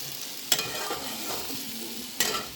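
Pumpkin pieces fry in oil with mustard seeds and a dried chilli, giving a steady close sizzle with two sharp clinks of a stirring utensil against the pan.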